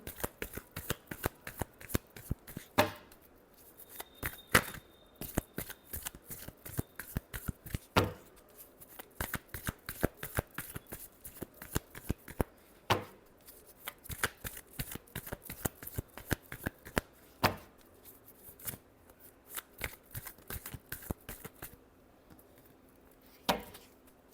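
Tarot cards are riffled and shuffled by hand in a steady stream of crisp, close flutters and slaps, with a few sharper bursts standing out, and no voice.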